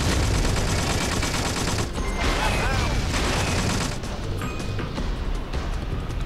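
Continuous gunfire in the video game MySims SkyHeroes, a loud, dense stream of rapid shots and mechanical clatter with brief whooshing sweeps, running without pause for several seconds.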